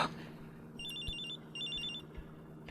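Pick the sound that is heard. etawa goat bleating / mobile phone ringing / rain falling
mobile phone ringing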